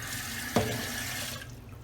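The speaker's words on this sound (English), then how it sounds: "Now we're just going to run some water into our pot." Tap water runs into a cooking pot in a home kitchen, starting abruptly with a splash and then pouring as a steady, close rush of noise that eases off near the end.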